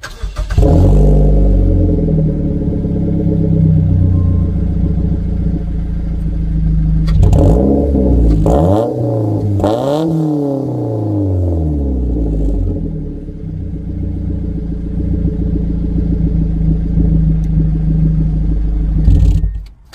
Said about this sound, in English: let's get you guys a sound test on this exhaust